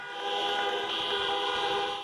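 At a US presidential campaign rally amid the COVID-19 pandemic, a dense mix of car horns honks together, layered and unbroken, holding a steady blaring chord for a couple of seconds.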